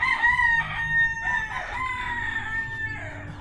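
Backyard farm chickens with a rooster crowing repeatedly over clucking fowl, steady and fairly close, with no talk.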